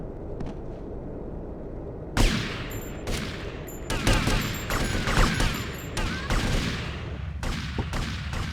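Scattered gunshots and bursts of fire in GTA Vice City, sharp cracks arriving irregularly over a rumbling background, loud and close.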